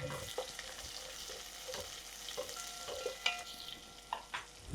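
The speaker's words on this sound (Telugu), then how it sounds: "ఉల్లిపాయ పెద్దగా వేగాల్సిన అవసరం లేదండి, జస్ట్ లైట్గా ఇట్లా ట్రాన్స్పరెంట్ అయితే చాలు మనకి" A large onion frying in a pan with tempering spices and curry leaves for a brinjal and raw mango curry gives a soft, steady sizzle, broken by repeated scraping and tapping of a spatula, with nobody speaking.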